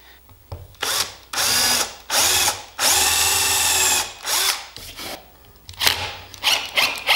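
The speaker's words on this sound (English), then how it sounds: "we need to screw this guy down now." A power drill drives screws into a wooden artist supply caddy in several close, loud bursts, each whirring run rising and cutting off, with short pauses and light handling noise between them.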